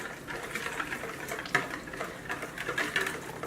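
A whisk beating a dressing together in a bowl, a fast, continuous light rattling and clicking that stays steady and close, with no talking.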